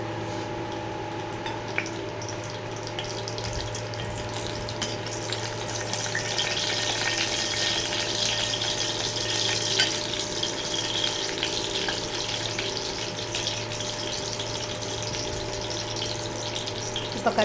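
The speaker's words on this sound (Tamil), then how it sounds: "ஆயில் நல்லா சூடு ஏறிச்சு. இப்போ ஒரு பிரிஞ்சி இலை, நம்ம எடுத்து வச்சுக்கிற அந்த லவங்கப்பூலாம் சேர்த்துக்கலாம்." A bay leaf and cloves sizzle in hot oil as a crab gravy begins, giving a steady, even frying hiss that continues for the whole stretch with no talking.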